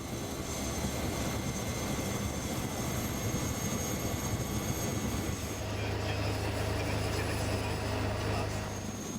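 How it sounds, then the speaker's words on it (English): A single-engine Cessna airplane's engine drones steadily and continuously in flight, with a low propeller-like rumble joining in toward the end; no voices. "These single-engine aircrafts are from Cessna Aircraft Company in Kansas, USA."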